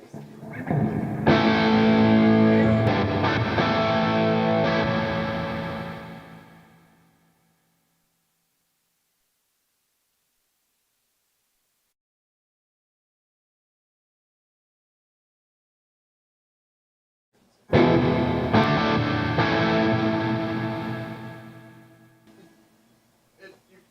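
At a guitar clinic, an electric guitar plays through an amplifier head about as heavy as a Marshall head: a distorted chord rings out loudly and decays to silence, then after a long pause a second strummed chord rings and fades.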